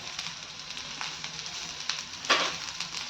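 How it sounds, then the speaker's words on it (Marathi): Garlic and cumin fry in oil with green chillies for a spicy chutney, a steady close sizzle and crackle with small pops and one louder spatter, with no talking. "जेणेकरून लसूण आणि जिरं देखील छान असं भाजलं जाईल"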